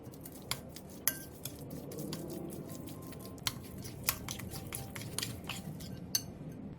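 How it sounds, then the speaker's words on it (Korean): Seasoning of chopped green onion, doenjang, gochujang, chili flakes, sugar, garlic, plum extract, oligosaccharide syrup, perilla oil and sesame salt being stirred in a bowl: soft squishy mixing broken by several sharp utensil clinks against the bowl, fairly faint, no talk. "볼에 대파, 된장, 고추장, 고춧가루, 설탕, 다진 마늘, 매실액, 올리고당, 들기름, 깨소금을 넣고 골고루 섞어주세요"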